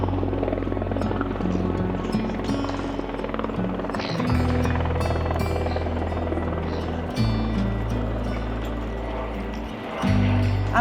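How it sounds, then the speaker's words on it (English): A helicopter over the Melbourne waterfront makes a steady rotor drone and engine whine, loud and continuous, with chopping low tones shifting as it passes overhead. "There's more helicopters."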